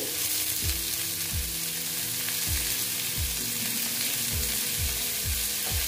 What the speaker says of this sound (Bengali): তারপরে দেখো দিচ্ছি আমি পেঁয়াজ কুচি